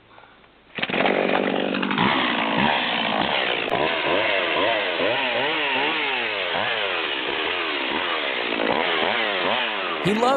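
A chainsaw starts up and runs loudly and close, its engine revving up and down in repeated surges over about ten seconds, with no talking.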